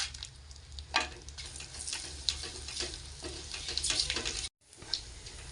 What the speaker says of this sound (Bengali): এখন আমি একটা গোটা তেজপাতা, দুটো শুকনো লঙ্কা, 3টে ছোটো এলাচ থেতো করে নিয়েছি দিয়ে দিচ্ছি।